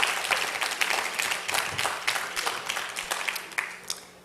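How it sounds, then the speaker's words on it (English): A live audience at an MLK Day community event applauds steadily. The clapping is dense and moderately loud, with individual claps standing out, and there is almost no talking. "Big round of applause."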